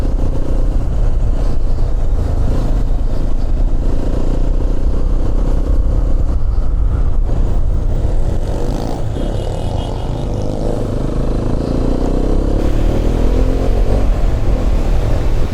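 A fully modified motorcycle rides a narrow hill road toward Kynrem Falls near Cherrapunjee, its engine droning steadily and close throughout with wind rush and slight shifts in pitch.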